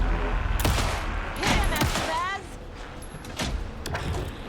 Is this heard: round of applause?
no